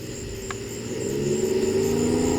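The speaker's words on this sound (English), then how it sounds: "truck or tractor pull or something going on over there. It's loud." Distant engines rev and roar from a truck or tractor pull at the Germantown Fairgrounds, carrying across open night countryside as a steady drone that swells louder and higher partway through.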